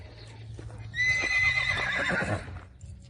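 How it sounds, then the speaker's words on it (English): A riled-up mare whinnies loudly and close by on a farm near Cuernavaca, Mexico, her high, wavering neigh lasting over a second above faint low hoofbeats and rustling. "This is the horse I saw earlier"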